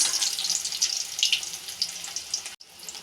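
Chopped onion sizzles in hot oil, a loud, steady, bright hiss that ripples continuously and cuts out briefly near the end.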